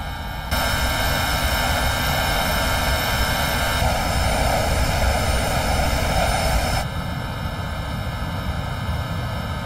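Airbus A320 airliner engines at takeoff climb in the X-Plane 10 flight simulator: a loud, steady jet roar with a broad hiss that holds constant throughout, easing slightly in the last few seconds, with no voices.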